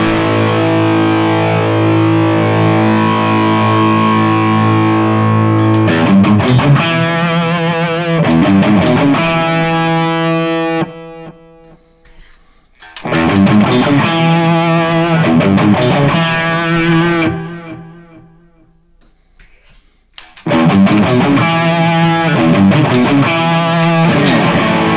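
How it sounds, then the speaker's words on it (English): An electric guitar runs through a Nux Trident multi-effects processor, playing a sustained distorted chord followed by three bursts of loud, rhythmic strummed chords with short quiet gaps between them. "So let's say I'm strumming a chord here."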